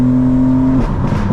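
An 800 hp BMW M4 Competition xDrive engine echoes beneath a bridge, a loud steady drone that suddenly breaks into a rough, crackling burble as the revs drop, close and reverberant, with no talking.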